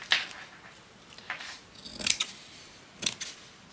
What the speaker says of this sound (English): Let me get a pair of scissors.